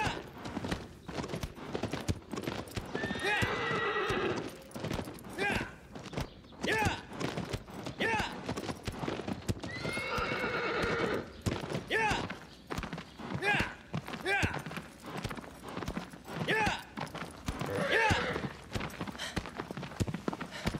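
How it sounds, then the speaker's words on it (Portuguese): A horse gallops along a narrow path in Shadow of the Colossus on PS4, with a rapid, rhythmic clip-clop of hooves running throughout and a voice talking over it at intervals. "Agora o cavalinho vai correr mais rápido."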